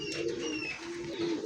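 Domestic pigeons of fancy breeds such as Giribaz, racer, satin and Danish coo close by, a low, steady throaty hum that swells and fades across a short stretch, with soft chirps above it.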